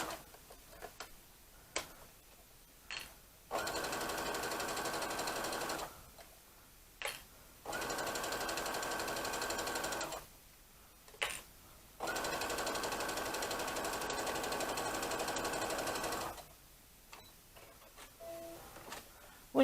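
Domestic sewing machine stitching a seam on a child's apron, running in three long steady bursts of fast, even mechanical clatter separated by quiet pauses, close and alone without talk.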